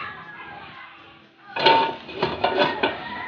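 A metal lid goes onto a pot of pancit canton noodles with a clattering clank, then a few lighter rattles of cookware after a quiet stretch with faint background.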